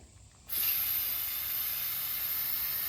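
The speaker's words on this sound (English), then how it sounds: "I'm going to go ahead and hit the body of the carburetor with some brake clean" After a brief quiet moment, a can of brake cleaner bursts into a loud, steady hiss of spray onto a Cub Cadet string trimmer carburetor, continuing unbroken to the end.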